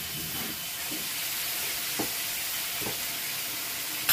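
Chopped onion frying in a pan for a potato and taro curry, giving a steady soft sizzle with a few faint stirring scrapes, close and alone.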